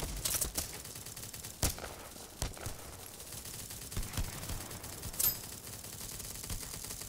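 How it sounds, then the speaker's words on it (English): Bursts of automatic gunfire in the online shooter BattleBit Remastered, sharp cracks and short volleys at varying distances, some close and loud, others fainter, scattered irregularly across the span with no talk. "Somebody's fucking firing."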